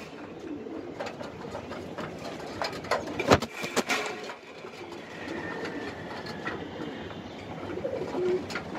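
Pakistani teddy pigeons, giribaz homing birds kept by a breeder, coo softly in soft repeated throaty phrases near at hand. A sharp clack and rustling break in midway, with a faint mechanical rumble underneath and no talking.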